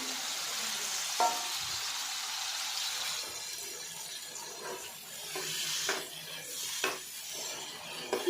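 Ivy gourd pieces frying in hot oil, a steady broad sizzle with occasional bubbling pops and stirring scrapes, close and continuous with no talking.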